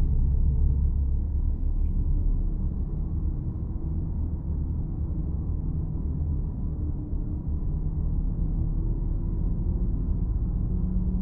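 A Mercedes-Benz double-decker bus engine in a driving game hums with a steady, deep rumble, continuous and even in loudness throughout, with no talk over it.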